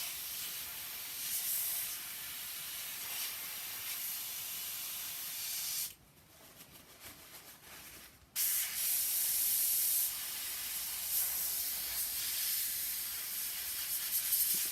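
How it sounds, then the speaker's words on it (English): An airbrush sprays during cleaning, a loud, steady close-up hiss that cuts out for about two seconds before resuming at full strength. "You can spend as long as you want cleaning your airbrush"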